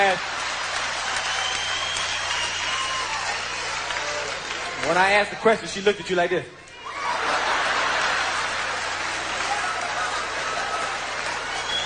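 Audience clapping and chuckling at a stand-up comedy show, a continuous wash of applause that runs throughout, briefly overlapped by the comedian talking near the middle before the clapping carries on alone.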